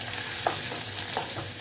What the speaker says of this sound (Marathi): आता हा मसाला पूर्ण असे तेलामध्ये परतून घ्यायचा आहे.